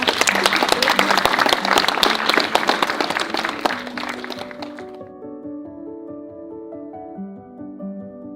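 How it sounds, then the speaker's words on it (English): Guests at a wedding ceremony break into loud, dense applause for about four seconds, which then stops abruptly as soft sustained instrumental music carries on alone. "I think he deserves a round of applause"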